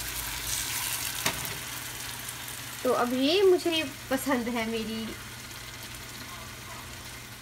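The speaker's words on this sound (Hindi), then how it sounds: "अब ये देखिए तड़का भुन रहा है अच्छे से" Steady sizzle of tempering spices frying in oil runs throughout, with someone speaking over it for a couple of seconds in the middle.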